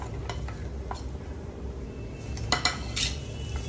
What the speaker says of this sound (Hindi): अच्छे से जब घी हीट अप हो जाए तो हम उसके अंदर डाल देंगे सारे ड्राई फ्रूट्स और उन्हें अच्छी तरह से टॉस कर लेंगे।